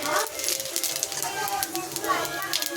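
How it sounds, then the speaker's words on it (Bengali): Whole cumin seeds sizzle faintly in hot oil in a home kitchen, a soft crackling hiss running steadily beneath a person talking. "তেল গরম হয়েছে, দিলাম জিরা, গোটা জিরা"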